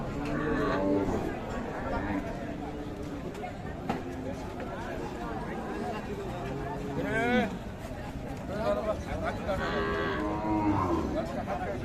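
Sahiwal, Sindhi and local-breed cows and calves moo repeatedly at a crowded cattle market, several low calls rising over constant bargaining talk and crowd noise.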